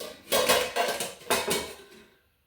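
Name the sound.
lid placed on pot of payasam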